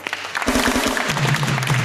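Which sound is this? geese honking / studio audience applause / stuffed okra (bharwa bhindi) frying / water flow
studio audience applause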